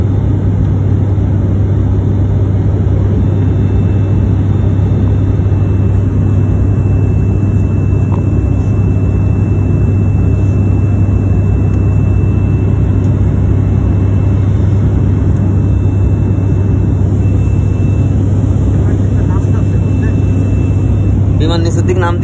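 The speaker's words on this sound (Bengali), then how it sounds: "বিমান নিচের দিক নাম দিছে।" An airplane descends toward the sea with its engines holding a steady, loud, low drone throughout, and people talk over the cabin roar.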